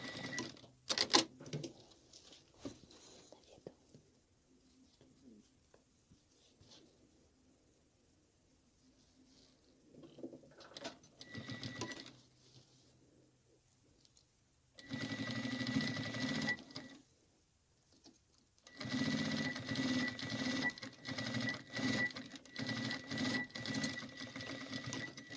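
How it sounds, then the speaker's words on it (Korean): A sewing machine stitches a linen pencil-case pouch in several loud, steady bursts of rapid mechanical whirring, separated by quieter pauses with faint handling noises, and nobody speaks. "그래서 이렇게 해서 이렇게 박음질을 하게 됩니다."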